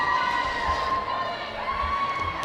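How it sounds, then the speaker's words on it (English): Roller derby crowd cheering in an arena during a bout, a steady dense roar of many voices with a whistle-like tone running through, loud and continuous with no pauses. "I think the cheer worked."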